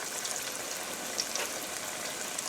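A soft, steady sizzle of buttermilk boneless chicken thighs frying in oil, with faint crackles and pops scattered over an even hiss.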